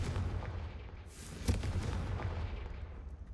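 A Confringo fire spell cast in Hogwarts Legacy bursts as one sharp blast near the middle, over a steady rumbling game backdrop.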